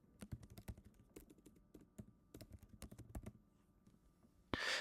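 Quick irregular keystrokes on a computer keyboard, close and crisp, in short bursts with brief pauses, ending in a louder clatter.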